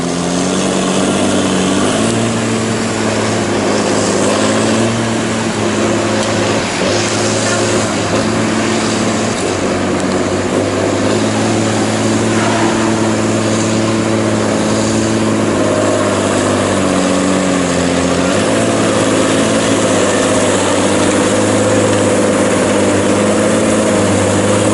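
A logging machine's engine drones continuously and loudly from a distance as it drives over wet, rough ground in a hollow, the pitch wavering slightly as it works.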